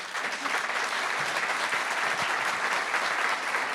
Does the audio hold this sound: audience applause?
yes